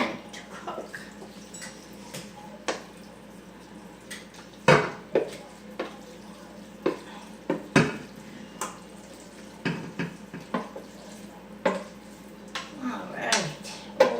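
Macaroni going into a baking dish with soft scrapes, taps and clinks of a utensil against the dish, a string of irregular short knocks spread across the clip, close and moderately loud.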